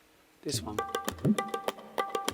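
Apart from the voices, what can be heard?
Indian tabla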